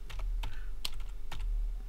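Quick bursts of clicky keystrokes on a computer keyboard as a cheat code is typed into The Sims 2, irregular taps spaced close together, near and fairly quiet, with no talk.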